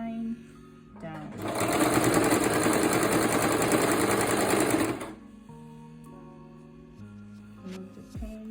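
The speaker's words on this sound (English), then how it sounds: "Hold my thread and sew. Back stitch. And sew it on the line down." A sewing machine stitches a dart, running steadily and loudly for about three and a half seconds with a short back stitch, with quieter handling noises before and after.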